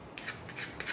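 Crispy fried Kolkata club kachori crust cracking and crunching, a few short brittle crackles in quick bursts, close and fairly soft with no voices.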